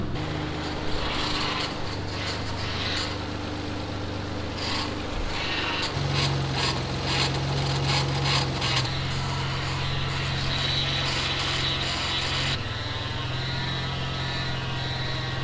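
A freshly installed engine in a Mitsubishi 3000GT VR4 idles steadily up close, a continuous mechanical hum with light ticking and a slight rise in pitch midway, no one talking.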